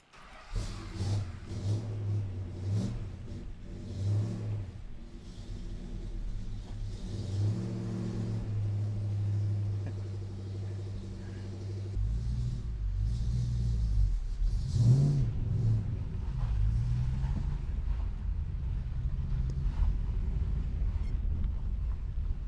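A rare Australian Chrysler Charger Drifter V8 driven from inside the cabin, its deep engine rumble rising and falling with gear changes and revs, loud and steady throughout with no talking.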